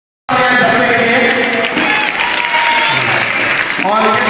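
Sudden loud audience applause for a child on stage at a school annual function and prize-giving, with steady crowd clapping and a voice talking over it.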